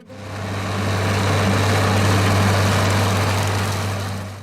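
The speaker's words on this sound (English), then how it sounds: "whenever we hear the distinctive engine sound" A steady International Harvester 1060-series tractor engine drones at a constant idle, a loud, even hum with a strong low tone that holds without change from start to finish, with no voices over it.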